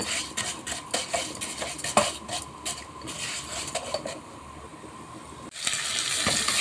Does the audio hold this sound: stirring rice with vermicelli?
yes